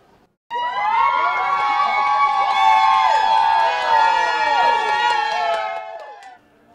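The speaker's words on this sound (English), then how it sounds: "Not much for words, but lots of woos as she came off the plane tonight" A crowd of people cheering and wooing at an airport as a woman steps off a plane, a dense sustained wall of high whoops and shouts starting abruptly, loud and close, then cutting off.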